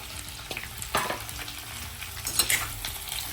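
Masala for stuffed bhindi frying and being stirred in a pan, a steady soft sizzle with a few brief scraping strokes of a utensil, close and moderately quiet, no talking.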